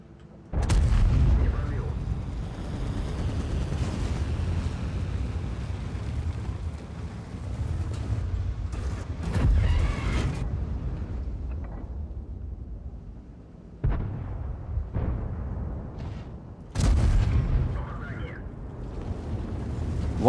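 The main gun of an Object 265T tank fires in an online tank battle game, several heavy booming shots spaced seconds apart, each followed by a rumbling, decaying tail over steady engine-like noise.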